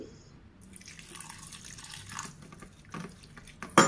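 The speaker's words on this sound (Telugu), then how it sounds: "కొద్ది కొద్దిగా వాటర్ యాడ్ చేసుకోవాలి" Water trickles and drips in small, uneven pours into a bowl of veg omelette batter, quiet and close, ending with a sharper splash; no one speaks.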